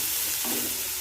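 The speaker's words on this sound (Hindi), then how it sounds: "देखो पियाजटा को हाई फ्लेम रे भाजुची।" Onions frying in a pan on high flame give a steady, close, bright sizzle with a brief surge of crackle midway, no voices.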